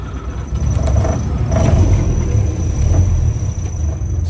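A 1955 Land Rover Series 1 86-inch engine turns over and settles into a loud, steady low rumble, close and unbroken, with faint squeals riding on top.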